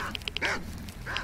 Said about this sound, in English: We got another pack of dogs over here.